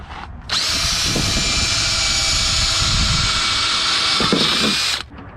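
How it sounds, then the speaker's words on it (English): A power drill whines loudly and steadily for several seconds, close up, starting and stopping abruptly. "we're gonna drill some holes"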